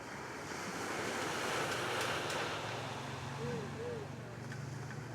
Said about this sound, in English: While I'm filming, this amazing ocean breeze just hits me